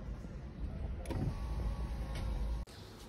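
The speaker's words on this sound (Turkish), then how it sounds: "Araba camı nasıl kapanır?" An electric car window motor hums as the glass closes, a steady whirring drone over low vehicle rumble that ends in a sudden stop and faint click when the window seats.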